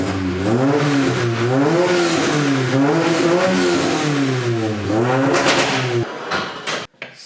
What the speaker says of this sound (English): it sounds quite different since I changed out the exhaust on it